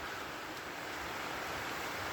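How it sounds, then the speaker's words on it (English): Steady downpour of heavy rain in Uganda, an unbroken broadband wash of sound, close and constant, with no talking. "it's been pouring since"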